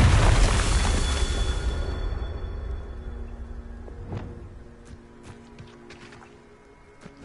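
In the game Hogwarts Legacy, a Confringo fire spell detonates as a heavy booming blast that rumbles and fades over several seconds, leaving faint crackles and small clicks behind.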